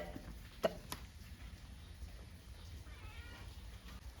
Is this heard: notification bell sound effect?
no